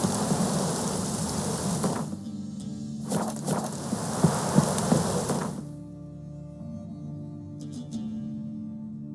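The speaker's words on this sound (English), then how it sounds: "This downpour's a bastard" Heavy rain pours down in The Witcher 3, a dense steady hiss that breaks off briefly near two seconds, swells again, then fades out around six seconds, leaving a quieter low rumble of ambience.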